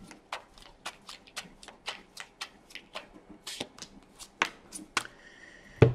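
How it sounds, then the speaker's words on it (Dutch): Tarot cards being shuffled by hand, a steady run of crisp, quick riffling flicks and snaps close by, quiet and alone with no talking. "De kaarten schudden om te kijken wat deze week gaat brengen."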